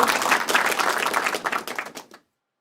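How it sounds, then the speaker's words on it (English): Short burst of clapping from a small group greeting a racing pigeon arriving home after a 379 km race from Toury, France, at a Belgian loft; quick hand claps for about two seconds, then abrupt silence. "Big round of applause."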